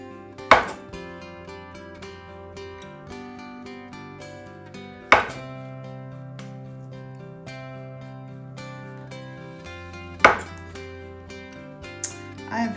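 Bananas being sliced for banana pudding, heard as three distinct knife taps spaced several seconds apart over steady background music, with a faint fourth tap at the end.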